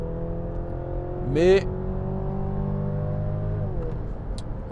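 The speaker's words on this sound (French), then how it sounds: "on a un bruit de moteur qui est assez présent, voire omniprésent dans l'habitacle" Engine of a 2023 Mercedes GLC plug-in hybrid in sport mode, a steady droning hum heard from inside the cabin with a brief rising whine, as a voice speaks over it.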